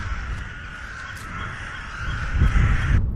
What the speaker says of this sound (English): Okay, I hear birds on my left.